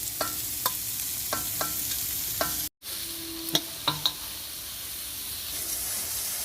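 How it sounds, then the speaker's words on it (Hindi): Grated cauliflower stir-fried in a pan over low heat, a steady soft sizzle with scattered scrapes and clicks of a spoon stirring, a brief dropout midway, no talking. "इस कद्दूकस किए हुए गोभी को इसी में हम डाल के ब्राउन होने तक हल्का धीमी आंच पर चलाते चलाते भून लेंगे"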